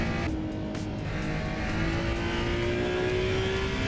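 A racing car's engine in the Assetto Corsa Evo driving game screams near redline at high speed, a loud, continuous rising tone with faint tyre squeal, no voices.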